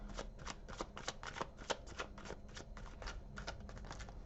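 Tarot cards being shuffled in a quiet room, a steady run of soft riffling flutters and light slaps repeating about every third of a second, close and alone with no talk.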